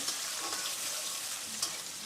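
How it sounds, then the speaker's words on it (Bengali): Chopped onions frying in oil in a pan for chicken curry, a steady soft sizzle with a brief clink of stirring, fairly quiet and without talk. "এখানে রান্না হচ্ছে মুরগির মাংস ঝাল ছাড়া মুরগির মাংস হবে পেঁয়াজ কুচি দিয়ে দিলাম"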